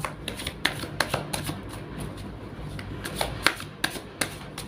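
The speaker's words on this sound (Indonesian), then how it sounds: "Langsung saja saya shuffle kartunya." Tarot cards are shuffled by hand in a run of crisp, irregular riffling snaps and soft slides, close and fairly quiet, with no talking over them.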